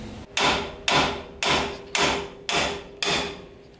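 Repeated hammer blows striking a Toyota Tacoma tie rod end to knock it free of the steering spindle during a Maxtrac spindle install, six loud, sharp metallic strikes in an even rhythm, close up, with no talking.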